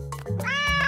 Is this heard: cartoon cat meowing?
yes